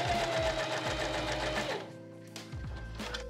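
A sewing machine stitches fabric up a V neckline on a DIY bodysuit, a fast steady whirring run that stops abruptly midway, followed by a brief quieter restart.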